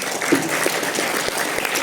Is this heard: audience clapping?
yes